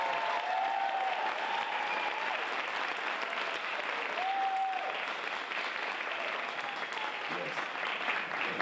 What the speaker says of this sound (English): Let's give him a round of applause for all that he has done